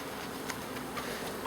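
Honey bees forage around the hives of an allotment apiary, making a steady, faint buzzing drone throughout the short stretch.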